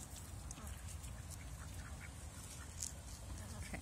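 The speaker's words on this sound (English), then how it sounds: "Oh my gosh, my little fall coloring ducks." Small domestic ducks quack softly and intermittently at a backyard feeding with grass, the calls fairly faint over a steady low rumble of background noise.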